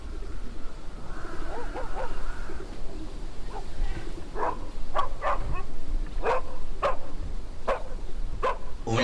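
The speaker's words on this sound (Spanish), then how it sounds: "Un ladrido flojo y enmohecido se escuchó y vimos a un perro acercarse." Dogs barking in a radio drama sound effect: a series of sharp, separate barks over a murky, busy background, some birdlike cooing early on and no speech.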